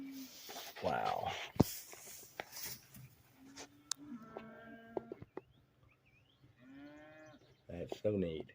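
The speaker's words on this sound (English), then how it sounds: "And there's my group of curious cows." Curious cows mooing in a farm field, several low drawn-out calls spread across the stretch, interleaved with people talking and scattered clicks and rustles.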